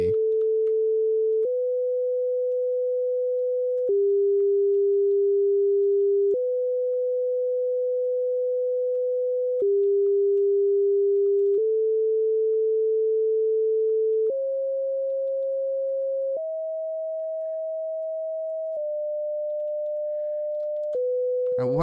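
A web synth oscillator playing a pure sine tone, held steadily and stepping between several pitches, each note lasting a second or more, loud and isolated with no voices.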